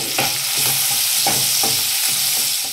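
Chopped tomato and hot chilli sizzle steadily in a pan for egg curry while a spoon stirs with repeated scraping strokes, close and loud with no voices.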